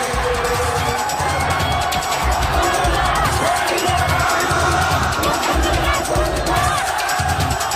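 A dense crowd surges around the president, a continuous loud roar of cheering and shouting voices pressing in close, with rhythmic clapping or chanting pulses running underneath throughout.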